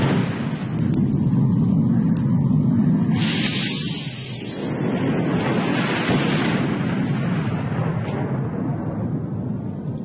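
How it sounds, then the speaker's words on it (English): Fireball spell effect in a continuous loud sequence: a rising whooshing wind-up, a quick toss, a heavy explosive blast, then a long low rumbling aftermath fading out. "We can hear a wind up to the spell, a toss, a blast, and then the rumbling after effects"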